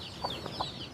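Chickens cluck softly in a rural farmyard, two or three short clucks at a moderate distance over a steady background hiss.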